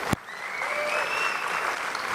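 Audience applause at a science-versus-Bible debate between evolutionists and a creationist, steady dense clapping filling the room, with a sharp knock at the start.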